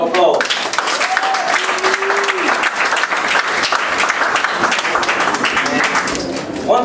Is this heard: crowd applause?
yes